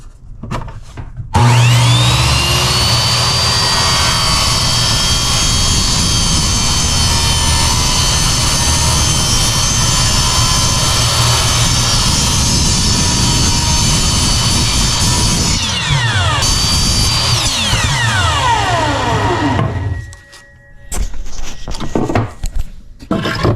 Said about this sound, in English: Sand a little bit of that off and make sure there's no rough edges